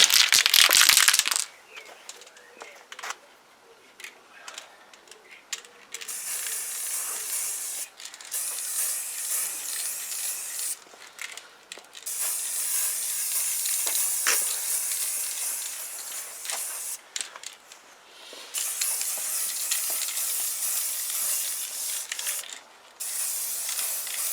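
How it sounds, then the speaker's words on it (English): A spray can lays a primer coat on a Zontes Tiger 125 motorcycle panel. Loud, close hissing bursts are separated by short pauses, with one long steady spray in the middle. "we need to give that panel another coat of primer"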